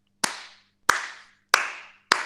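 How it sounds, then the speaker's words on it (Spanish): Four slow, single handclaps ring out one by one at steady, widely spaced intervals, each crisp and echoing briefly in a quiet workshop room, like the start of a cinematic slow clap. "el aplauso de película que empieza despacio"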